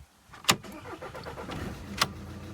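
An old car started by push button with the clutch and brake held: two sharp clicks frame a close engine that catches and settles into a steady low running rumble, with no talk.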